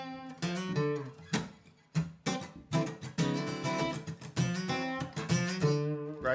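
Electric guitar phrase that bends or slides from a flat third up to a major third, part of a funky open-scale lick, played close and clean with sustained, ringing notes.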